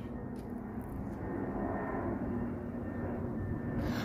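A low, continuous rumble of an airplane passing at a distance, steady and broad, with no talking over it.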